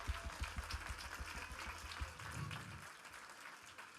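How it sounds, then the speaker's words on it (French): An audience at a church Christmas show applauds the volunteers, steady scattered clapping heard from a distance at low level, easing off toward the end. "On peut les applaudir vraiment?"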